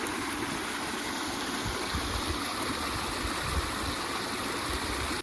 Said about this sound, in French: On se rappelle de ce ruisseau de malheur là.